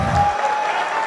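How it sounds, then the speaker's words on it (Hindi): Audience clapping at a business seminar, a short burst of applause from a crowd, loud and close, fading quickly within about a second. "बजाओ ताली फिर"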